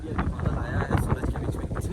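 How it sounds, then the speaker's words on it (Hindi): Wind gusts buffet the microphone on a hilltop, a rough continuous rumble and roar that rises and falls, loud and close, with a person speaking underneath. "कितनी प्यारी हवा चल रही है"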